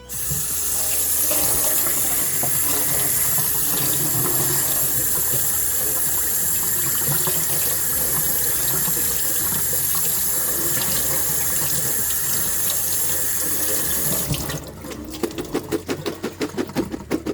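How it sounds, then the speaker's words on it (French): Tap water runs steadily through a colander of red kidney beans being rinsed in a kitchen sink, a loud continuous rushing stream that cuts off near the end, leaving softer drips and rattles. "dans une passoire, on va rincer nos haricots"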